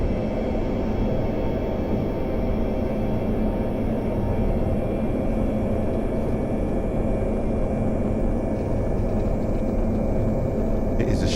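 Antonov cargo aircraft engine roaring on a short runway at night, a loud, steady, continuous rumble heard up close with no breaks.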